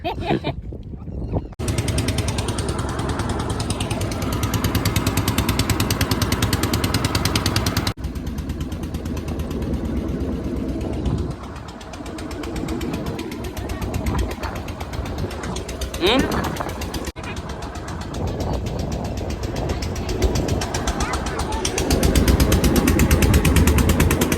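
A boat's engine runs steadily and loudly throughout, a constant mechanical drone with voices talking over it now and then.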